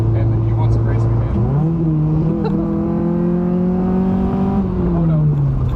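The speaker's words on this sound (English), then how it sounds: "I'm pulling up next to a Ferrari and he wants to race me" A car accelerating hard beside a Ferrari in an impromptu street race at a Texas cars-and-coffee meet, heard from inside the cabin: a loud, steady engine drone rising in pitch through the gears, with one shift midway.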